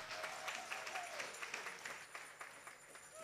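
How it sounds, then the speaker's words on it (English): Church congregation clapping hands during a sermon to honour the men present: a continuous patter of many hands from a gathered crowd, moderately distant and fairly quiet, with a faint voice briefly audible beneath. "can we give a hand clap to every man in this house?"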